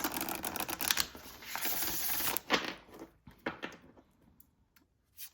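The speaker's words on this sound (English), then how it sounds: "I'm actually just going to keep shuffling for a minute until it feels right to stop" Tarot cards are shuffled by hand in a steady run of soft riffling and papery flicks, giving way to a few separate taps and snaps as the shuffling slows, quiet and close with no talking.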